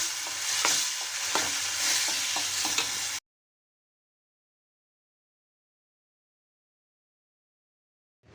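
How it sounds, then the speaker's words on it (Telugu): Mung dal goes into a hot pan and gets stirred as part of a village-style raw mango curry, making a sizzling, scraping sound for about three seconds before the clip falls silent. "పప్పు వేస్తున్నాను ఇందులో"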